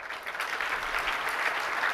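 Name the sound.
audience applause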